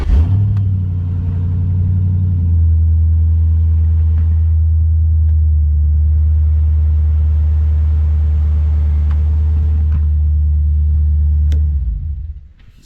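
A derby car's engine, run with a fan and kill switch, produces a loud, steady low droning rumble close by, holding for about twelve seconds before fading out.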